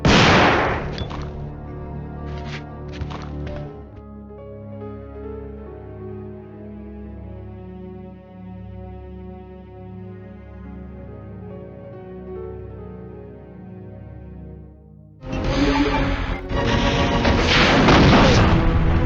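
Gunfire in Resident Evil 2 on the PS1: a few sharp booming shots at the start, then a sustained musical passage, then a loud burst of heavy shots and crashes near the end.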